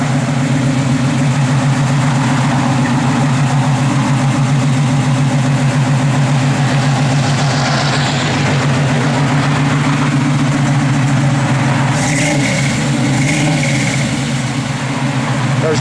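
A 1968 Chevrolet Camaro RS/SS convertible engine idles steadily with a deep, constant rumble, then lifts into a brief rev toward the end, heard close up with no talking.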